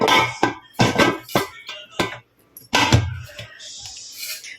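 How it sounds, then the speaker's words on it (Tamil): A series of sharp metallic clanks and knocks as a pressure cooker lid is fitted and turned shut, with brief pauses between. "இப்போ குக்கர் மூடிக்கலாம்."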